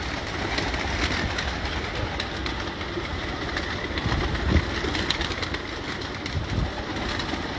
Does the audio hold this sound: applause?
no